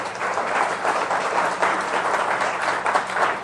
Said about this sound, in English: Give yourself a round of applause, seriously.